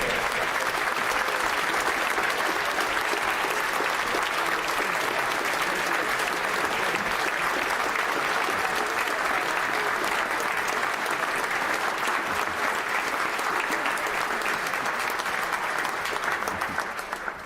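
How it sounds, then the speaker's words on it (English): An audience in the House of Commons breaks into sustained applause, dense steady clapping from many hands that holds at an even level throughout before tapering slightly at the end. "that's the only reason I allow clapping."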